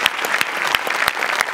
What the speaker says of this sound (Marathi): वा वा वा, जोरदार टाळ्या दोघांसाठी.